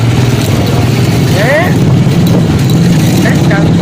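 A 125cc dirt bike engine runs steadily while riding, a loud continuous drone with wind roar, a few brief higher tones passing over it.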